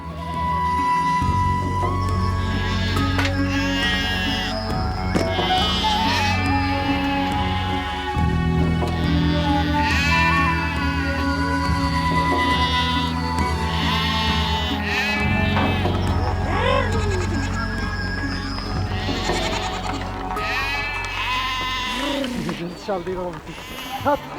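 Sheep and goats of a Kazakh herd in the Altai bleat repeatedly over a steady bed of music, the animal calls rising and falling throughout at moderate loudness.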